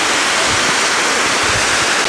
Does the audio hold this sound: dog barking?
no